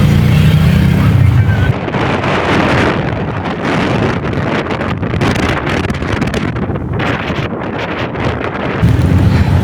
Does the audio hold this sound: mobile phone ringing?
no